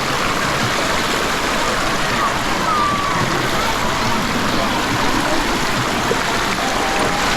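A river in Calantas, Calaca, Batangas flows in a steady, loud, close rush of water, continuous for several seconds with no pauses.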